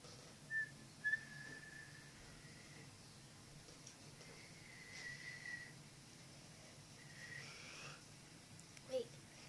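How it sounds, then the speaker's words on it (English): A child whistles in a few thin, breathy attempts, short faint tones with pauses between, in a quiet room with soft background noise. "week I learned how to snap and whistle."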